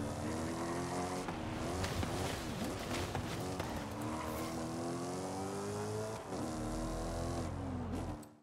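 A big V8 racing car engine in the Forza video game, revving hard and holding high, loud and close, with shifting pitch and a brief dip before climbing again, no talk.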